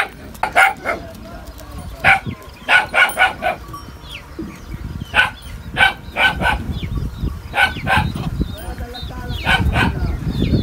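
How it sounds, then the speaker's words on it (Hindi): A pet dog kept at a village home barks in repeated sharp bursts, fairly close and loud, with some yips between barks and background rustling. "ये देखें जी घर में इन्होंने कुत्ता पाल रखा है"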